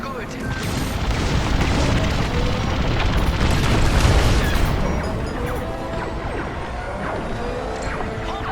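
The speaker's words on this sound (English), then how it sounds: "let's destroy the shield generator. Another generator destroyed" A shield generator explodes in the Star Wars: Squadrons space combat game, a deep booming blast swelling and rolling off into a long rumbling tail amid engine noise, with someone talking over it.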